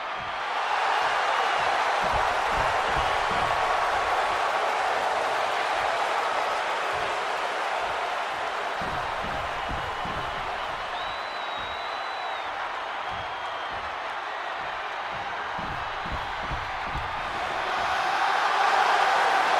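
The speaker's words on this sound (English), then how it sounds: "And this capacity crowd just exploded." Capacity crowd in a WWE 2K26 video game arena for a CM Punk versus Seth Rollins match roars in a steady, dense wash of cheering and noise that holds loud throughout and swells again near the end.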